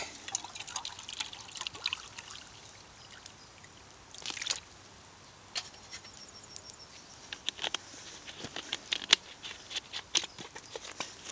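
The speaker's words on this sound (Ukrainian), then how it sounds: "Поставлю сюди кипяточку, зроблю з цієї води." Boiling water trickles and dribbles as it is poured for tea outdoors where borscht is cooked over a wood fire; faint, intermittent liquid patter with soft splashes, no talking.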